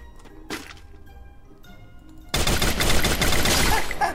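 FAMAS rifle fire in the battle game Free Fire: after a quiet start with one faint knock, a dense, loud, continuous burst of rapid shots begins and runs to the end, with no talking over it.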